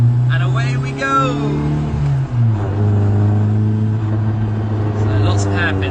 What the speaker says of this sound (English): this has a sports exhaust on it from David Brown